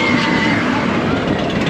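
A loud, steady rumble of the Seven Dwarfs Mine Train roller coaster at Magic Kingdom rolling along its track, with a continuous roar and faint rattling, close and unbroken throughout.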